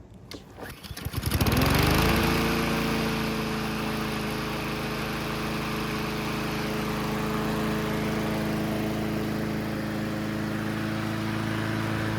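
A Honda lawn mower engine with a newly replaced Thermowax choke part is pulled into life with a rattly start, then settles into a loud, steady running drone close by, with no talking.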